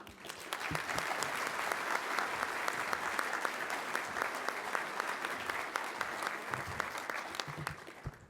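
A breakfast audience at a Good Friday keynote event gives steady, sustained applause to welcome the speaker, a dense, even wash of many hands clapping that continues throughout.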